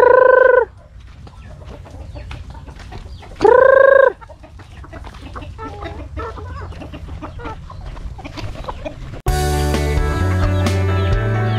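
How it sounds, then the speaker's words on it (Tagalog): A native hen brooding in a backyard chicken coop gives loud, drawn-out clucking calls in two separate bursts, with quieter clucks and coop noises between them, followed by a different, denser sound near the end. "Ito yung native natin na naglilimlim."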